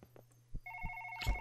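An electronic phone ringtone starts partway through, steady and moderately loud indoors, preceded by a few soft thumps over a low background hum.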